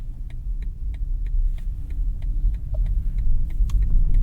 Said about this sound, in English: Let's turn the engine on now.